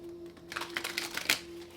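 A deck of tarot cards is shuffled in a short, quick burst of soft papery riffling and flicking, close and quiet, with no talk.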